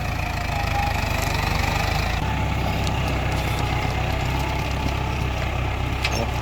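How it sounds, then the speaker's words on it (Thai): A big farm tractor engine runs on a plowed field being readied for planting, a steady low mechanical drone with a continuous rumbling throb that holds close and fairly loud, with no voices. "รถไถคันใหญ่ ๆแบบนี้ครับ"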